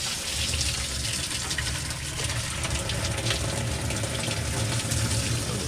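Water gushes steadily into a boat's bilge during a wash-down fill, a loud, continuous hissing splash close by with no pauses.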